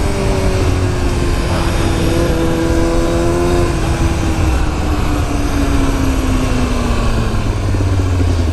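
A Streetfighter R6 motorcycle engine runs steadily and loudly close by, with a continuous throaty drone and rising and falling tonal lines as the revs shift, heard alone with no talk.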